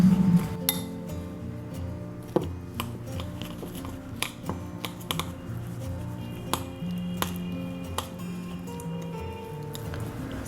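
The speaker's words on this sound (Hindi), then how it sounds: "सारे सामग्री को हम अच्छे से मिक्स करेंगे।" A spoon repeatedly clinks and scrapes against a bowl while chilli garlic bread spread is stirred together with oregano, salt and chopped coriander, in irregular taps, close and clear.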